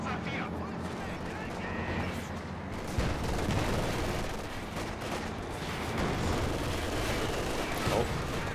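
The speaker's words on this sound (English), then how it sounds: "Sys barrage on the machine gun" Artillery barrage shells in Company of Heroes 2 slam near a machine gun position, a dense rumble of blasts and booms with a sharp impact around three seconds, continuous and loud throughout.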